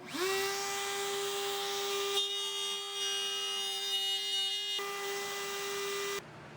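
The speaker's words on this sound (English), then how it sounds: "now I'm going to cut a bunch of grooves in here" A power tool whines steadily while cutting a series of grooves into small wood blocks for a box joint jig, a loud sustained high-pitched tone that shifts slightly in pitch before abruptly stopping.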